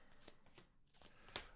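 Marvel Champions encounter cards being shuffled, soft rhythmic riffling flutters repeating a few times, close but very quiet, with a sharper snap near the end and no voices.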